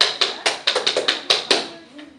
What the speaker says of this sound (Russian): Я буду хлопать руками.